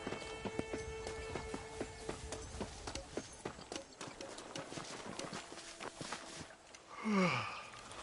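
Horse hooves clip-clop at a steady walking rhythm while riding in the western video game Red Dead Redemption, close and clear, with a horse snort near the end.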